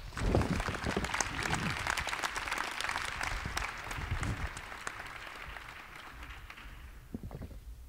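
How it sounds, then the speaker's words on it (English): An audience at a live-streamed panel event applauds the panel, close and lively at first with a few louder claps, then thinning and fading toward the end. "Please join me in giving them a round of applause"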